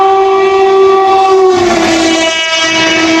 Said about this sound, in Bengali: হাওড়া দেরাদুন কুম্ভ এক্সপ্রেস ঝড়ের গতিতে ডানকুনি জাংশন ক্রস করছে